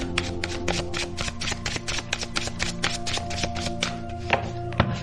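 Tarot cards are shuffled and drawn up close. Quick, crisp taps and riffles come in a rapid, uneven rhythm, quiet and alone.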